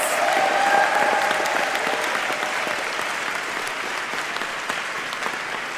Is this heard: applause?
yes